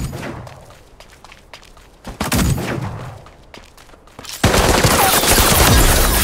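Gunfire in the video game Super Mecha Champions: scattered thuds and single shots first, then a burst of dense rapid fire, and finally a sustained, loud barrage of automatic shooting close by.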